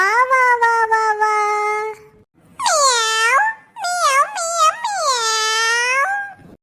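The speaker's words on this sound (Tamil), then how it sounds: "இன்னையோட மியாவ் மியாவ்னு கத்துற இந்த பூனையோட தொல்லை முடிஞ்சது." A cartoon cat meows loudly and plaintively in several long, wavering cries with short gaps between them. The calls are close and clear, with no other sound underneath.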